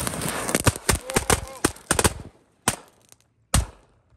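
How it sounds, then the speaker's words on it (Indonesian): Thor kretekan firecrackers crackle in a fast, loud string of sharp pops that thins out into a few scattered, isolated bangs with silence between. "Selanjutnya kita nyalakan mercon kretekan Thor guys"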